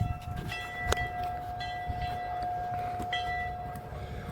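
A small train rolls past at Calico Ghost Town, steady rumbling and clanking of wheels on rails with a sustained tonal ring and occasional sharp metallic knocks, moderately close.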